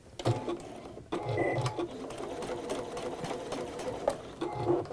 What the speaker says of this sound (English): I'm just going to stitch along there